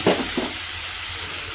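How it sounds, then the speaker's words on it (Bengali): Potatoes sizzling in a pan with ground spice paste and turmeric just added, a brief stirring scrape at the start, then steady close frying hiss. "আলুটা ভালো করে ভেজে নিব।"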